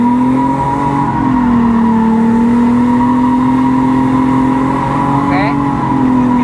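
Car engine held at high revs during drifting practice, a steady loud droning roar that dips and rises slightly, with people talking over it.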